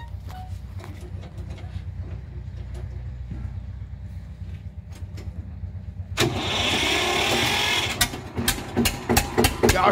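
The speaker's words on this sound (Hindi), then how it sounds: "और ये सेल्फ स्टार्ट ट्रैक्टर है।" A 2003 Eicher self-start tractor cranks and its diesel engine catches partway through, jumping from a low rumble into a loud, rough running roar with sharp clattering bursts, recorded close by.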